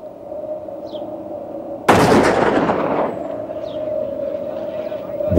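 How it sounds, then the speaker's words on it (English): Sudden burst of WWI-era gunfire from Belgian snipers, a sharp loud crack followed by a dense roaring decay, set against a steady hum in archival documentary sound. "Belgian snipers started shooting."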